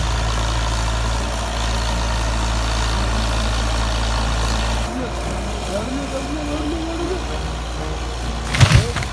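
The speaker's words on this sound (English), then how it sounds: "Its high-horsepower engine roars, a fierce sound that drowns out the wind." A high-horsepower Equus 175N skidder working in deep forest has a loud, steady low engine drone that changes pitch partway through and rises in a brief roar near the end, with voices underneath.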